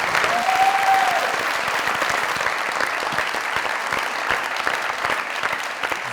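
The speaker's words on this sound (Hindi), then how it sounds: "जोरदार ताली" Dense, steady applause from a large studio audience at a comedy talk show, loud and close, continuing throughout with a brief faint whistle near the start.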